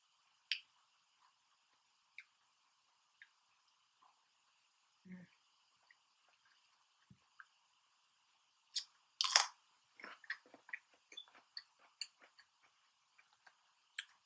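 Pork sausage being chewed during a seafood mukbang, with soft scattered bites and a cluster of close, crisp smacking and crunching sounds in the second half, otherwise quiet.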